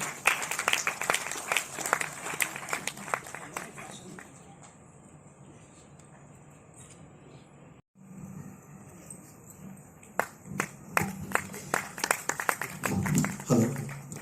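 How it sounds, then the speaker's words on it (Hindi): Audience applause at an award ceremony in an institute hall, a dense patter of claps that thins to a quieter stretch, breaks off briefly midway, then swells again, with a voice audible toward the end. "आपकी तालियां कुछ कम थी जितनी इनके बारे में बात की।"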